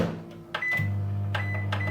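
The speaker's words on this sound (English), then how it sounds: "So whack them in the microwave," A microwave oven hums steadily after starting up, a close, even drone with faint clicks and rattles, heating sausages and mash in a home kitchen.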